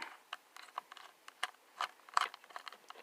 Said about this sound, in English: So of course you will want to take this screw out.